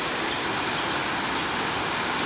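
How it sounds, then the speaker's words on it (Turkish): Steady, even rainfall pours down outdoors during a holiday, a dense continuous hiss with no gaps and no voices. "şimdi yağmur yağıyor"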